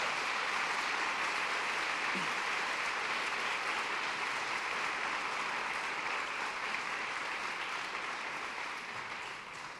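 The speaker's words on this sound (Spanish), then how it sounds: "Puede dar una ofrenda de palmas al Señor" A church congregation gives sustained applause, a broad, even roar of many hands clapping continuously for about ten seconds, easing slightly toward the end.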